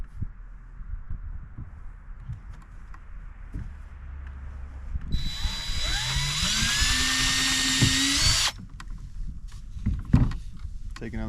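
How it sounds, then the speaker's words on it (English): A power drill drives a self-tapping screw into an Ascend 12T fishing kayak while an anchor trolley is mounted, a rising whine of motor that steadies for a few seconds, close and loud over quiet background handling. "I'm going to take my drill again and screw the top hole."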